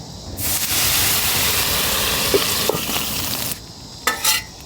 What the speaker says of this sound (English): Okay, we're gonna throw a little steam on here.